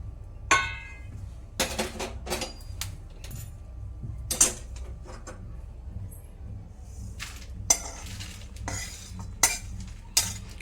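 Dried tendli (dandi) fish roasting dry in a pan while being stirred, producing scattered metallic scrapes and clinks of a spoon against the pan over a low background hum, close by and without speech.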